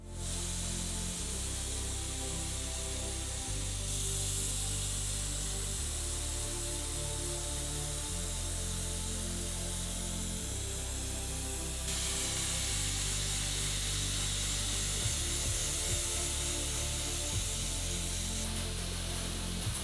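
Green edible paint is sprayed over a life-size chocolate crocodile, a continuous loud hissing spray in long bursts with brief pauses, close and alone for about twenty seconds.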